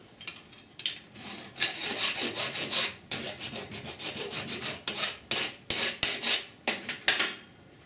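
A metal file rasps across a welded steel patch panel on a 1969 Chevrolet C10 core support, in steady back-and-forth strokes, close and loud, with sharper rhythmic scrapes toward the end.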